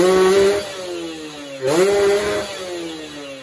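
A motorcycle engine fitted with a Superbooster RS1 grounding kit revs on light throttle, two quick buzzy blips rising and easing off, loud and close.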